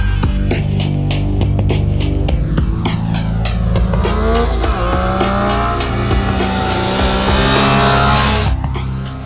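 Triumph Street Triple motorcycle engine revving hard and pulling through the gears at speed, loud and continuous with rising and falling pitch sweeps, alongside another bike on the run, with no speech.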